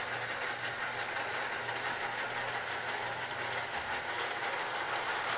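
A Lionel model train with a diesel locomotive and boxcar runs on its track, a faint, continuous rumble with rhythmic clicking from the wheels over the rail joints, without talk.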